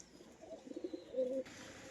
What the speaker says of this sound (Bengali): কম বেশি সব রকম কোয়ালিটির পায়রা দেখে নিন